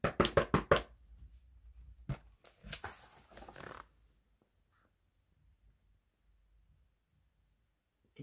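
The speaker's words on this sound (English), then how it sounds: "Just then, there was a loud knock at the door." A quick series of sharp knocks on a door, followed by a few more scattered raps and shuffling, then near silence.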